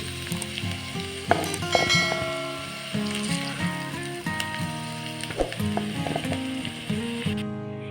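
Pieces of raw jackfruit fry in hot oil in a pan, a steady close sizzle with scraping, clinking strokes of a utensil and some tonal metallic ringing throughout, no speech.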